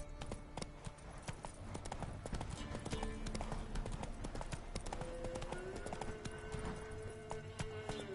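Hooves of the horse Roach clip-clop in a fast galloping rhythm in a video game, close and continuous, with a brief whinny near the end and game sounds mixed in.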